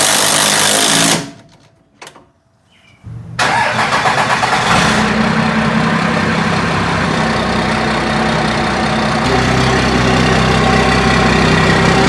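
A cheap used truck's engine cranks and catches after a brief near-silent pause, then settles into a loud, steady close-up idle with a constant rumbling drone through the rest of the stretch, no talking.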